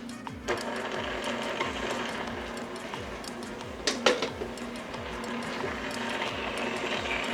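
Stand mixer creaming cannabutter for chocolate pistachio cannoli, a steady mechanical whir with a rhythmic beating pulse and a brief clatter partway through.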